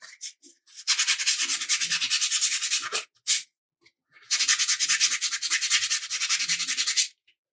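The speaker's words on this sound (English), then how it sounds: "I'm going to give this a light sanding." Light hand sanding of filler on a quarter-scale Samurai Wolverine statue: rapid back-and-forth rasping strokes in two long bursts separated by brief pauses and a few short scrapes, close and crisp.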